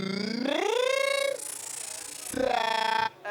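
Zynaptiq Triumph's Cyclic Stretch effect, an Akai-style sample stretch, applied to a sound: gliding, pitch-bending harmonic tones that sweep and smear, with a hissy stretched middle section before the tones return, fairly quiet and without voices.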